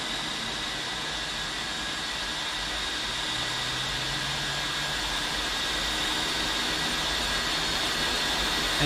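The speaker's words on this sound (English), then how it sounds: "Here come the engine sounds." Rolls-Royce jet engines of an American Airlines Boeing 757-200 in the X-Plane 11 flight simulator give a steady, loud whooshing roar with a faint low drone, unbroken across the whole stretch.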